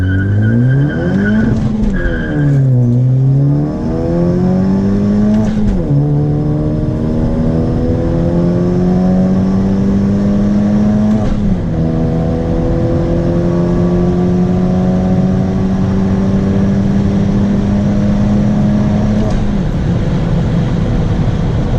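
A Honda Civic Sport hatchback launches hard on a quarter-mile run with traction control off, its engine loud and close as it climbs through the revs, drops briefly on each gear change, then pulls steadily again.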